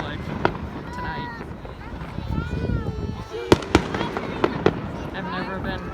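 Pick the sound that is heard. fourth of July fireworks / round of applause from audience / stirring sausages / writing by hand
fourth of July fireworks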